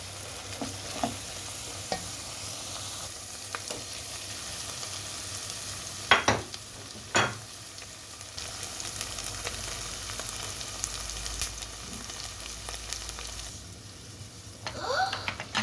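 Zucchini, potato and chicken with tomato paste sizzling in a pan and stirred now and then, a steady fry with a few sharp scrapes of the utensil, close and without talk.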